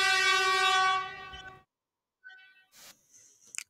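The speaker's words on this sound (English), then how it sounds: "we can see that the air horn sound effect is here" A downloaded air horn sound effect blares loud and steady for about a second and a half, then cuts off, followed by faint scattered clicks and brief noises.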